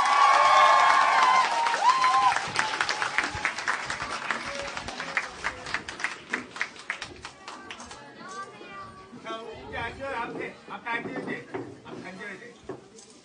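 An indoor lecture audience gives a loud round of applause and cheering to welcome a former lawmaker speaker, starting strong then thinning into scattered claps with talking over it.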